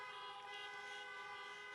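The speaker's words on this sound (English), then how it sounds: "So we can honk now." Car horns blare together in a sustained, overlapping honk at an outdoor drive-in campaign rally in Des Moines, Iowa, loud and continuous with no gaps.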